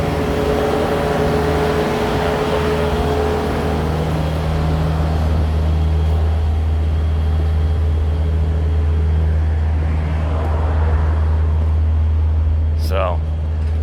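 Truck engine idling close by, a steady low rumble with a constant hum running through the whole stretch, loud and continuous; a brief voice cuts in near the end.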